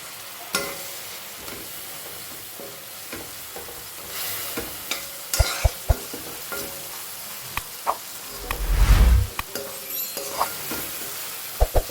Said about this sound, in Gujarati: પાણી એડ કરીશું.